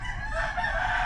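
A native backyard rooster crows in one sustained, strained call over a low background rumble, fairly close and steady in loudness.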